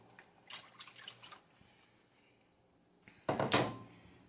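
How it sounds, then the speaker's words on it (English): Water poured into a pot of curried red snapper on the stove, a brief splashing pour near the end after quieter kitchen clatter and drips. "So I'm just gonna add some more water."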